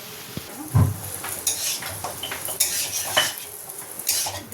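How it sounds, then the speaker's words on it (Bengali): Chicken sautéing in butter in a home kitchen pan, with light sizzling under repeated scraping and stirring clatters of a utensil against the pan, close up and uneven in rhythm. "এই যে ও করছে যে চিকেনটা বাটার দিয়ে সটে করছে"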